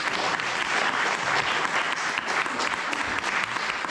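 Audience applause for a hardworking team, dense and sustained clapping filling the whole stretch at steady loudness, close and crowd-sized, with no voices standing out.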